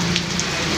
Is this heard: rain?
yes